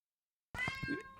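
A domestic cat lets out a single drawn-out meow close by, rising and then trailing off, after a moment of silence.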